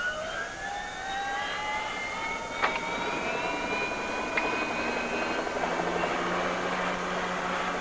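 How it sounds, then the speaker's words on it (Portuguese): Sky 12, a television news helicopter covering emergencies over Phoenix, Arizona, passes with a faint whining engine tone over a steady rotor rumble, sweeping pitch as it moves, heard alone at moderate distance. "um helicóptero chamado Sky 12 faz a cobertura noticiosa de emergência para uma estação local de televisão"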